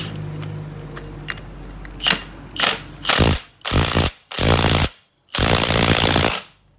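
Short bursts of an impact wrench tighten the 19 mm clutch nut on a Yamaha Exciter 150 motorcycle, fitted with an MVR1 five-spring slipper clutch. A few light metallic clicks come first, then five loud, rattling bursts that grow longer, with brief pauses between them.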